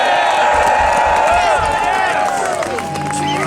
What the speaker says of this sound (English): Let's give a round of applause for Canadian Pacific.